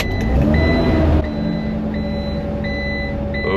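Van engine turning over and idling on a frigid morning around minus four degrees, a loud rough running drone with a repeating electronic beep over it, no voices.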